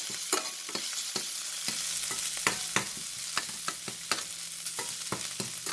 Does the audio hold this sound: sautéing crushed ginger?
yes